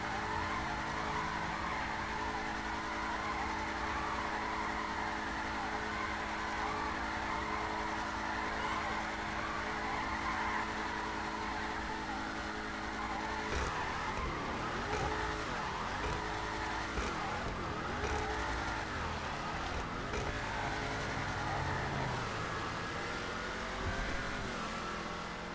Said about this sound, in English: I'm just gonna do a quick donut